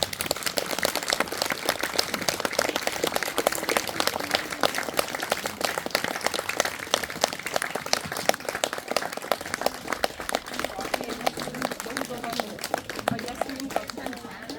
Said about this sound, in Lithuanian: tad didžiausi plojimai jai.